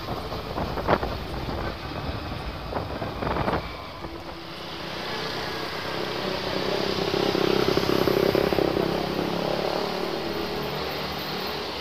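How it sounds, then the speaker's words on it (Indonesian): A motorcycle rides toward the Mount Agung base camp via Pucang, its steady engine drone mixed with heavy wind buffeting the microphone, continuous and fairly loud throughout. "Ini saya naik motor ini,"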